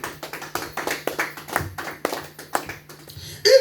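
A church congregation claps in response to a preacher, a few seconds of brisk, uneven hand claps at close range, with a short louder burst at the end.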